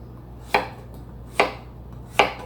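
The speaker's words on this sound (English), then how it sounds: "So I'm going to be chopping them" Three sharp, evenly spaced knife chops through zucchini on a cutting board, each a crisp close thud with a short ring, set apart by quiet gaps while the zucchini is being prepared for fermented pickles.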